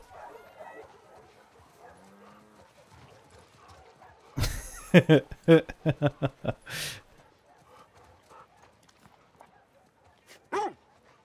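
A dog in The Last of Us Part II video game gives a burst of rapid, loud barks and yips at close range, then a later single whimper, with soft game ambience and occasional talk around it.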